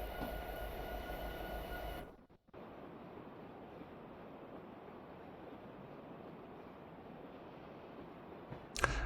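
A heavy coal train rumbles along the rails in Train Simulator Classic, a steady low continuous rolling noise after a brief cutoff, with a short sharp click at the end.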